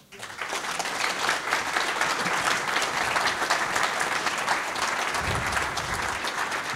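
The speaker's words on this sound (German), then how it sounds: "Ich denke, das ist einen richtig kräftigen Applaus wert." Steady, vigorous applause from the audience at a public health talk on prostate cancer, a dense wash of clapping that swells quickly and holds without letup.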